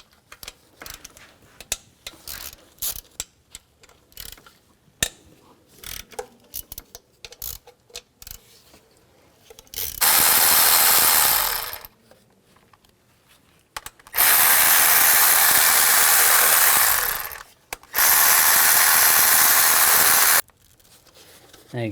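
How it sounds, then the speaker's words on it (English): Ratchet with a 12mm socket loosening nuts and bolts on the upper intake plenum of a 2003-08 Nissan Maxima, heard as two or three loud, sustained bursts of rapid clicking, preceded by lighter handling taps and clinks. "Use a 12mm socket, take these 2 nuts out and the rest of the bolts."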